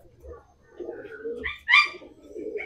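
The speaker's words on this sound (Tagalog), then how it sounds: "Ito mga kalapatids." Pigeons coo softly and repeatedly close by, with one louder, brighter call rising in the middle amid low murmuring.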